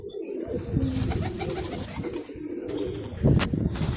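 Pigeons coo repeatedly at close range, soft low calls over steady background noise, with a brief louder burst near the end.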